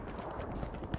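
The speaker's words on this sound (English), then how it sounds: "I hear footsteps." Footsteps in the Hell Let Loose video game make soft, rapid scuffing thuds buried in dense continuous battlefield noise, with no clear separate steps standing out.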